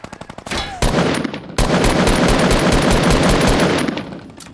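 Rapid machine gun fire in a multiplayer shooter: a few quick opening shots, then a loud, sustained burst of automatic gunfire that hammers on close by, with no voices.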